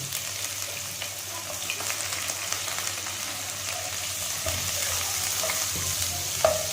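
Finely chopped onion and garlic fry in hot melted ghee, giving a steady, close hiss with soft stirring scrapes throughout and one sharper pop near the end. No voices are heard.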